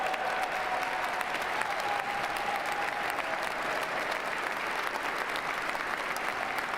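Sustained applause from a large crowd at the 2025 Donald Trump presidential inauguration, a steady roar of clapping heard from a distance, even and unbroken for several seconds.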